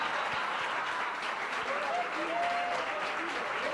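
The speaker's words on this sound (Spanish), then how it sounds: "Un gran aplauso." Audience applause for a trombonist at a live salsa concert at a social club, a dense, steady wash of clapping from a crowd throughout, with a few faint tonal sounds rising over it.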